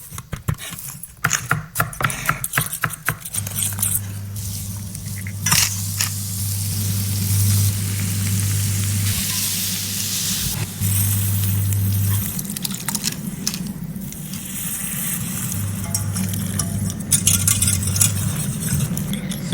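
Kitchen sounds from cooking traditional Italian pasta dishes: a steady wash of spray-like sizzle and running noise with scattered metallic clinks and taps, plus a low steady hum, fairly loud and continuous with no talk.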